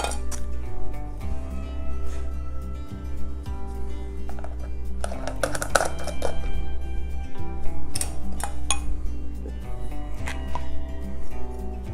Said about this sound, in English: I heard that one tap the glass just a little bit